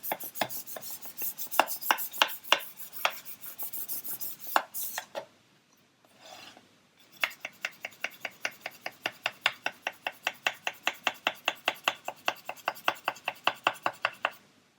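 An abrasive grit board sanding the hull of a 1/400 Queen Mary 2 model ship, with fast, regular back-and-forth rasping strokes, close and crisp, a brief pause midway, then a steady rhythmic run of strokes.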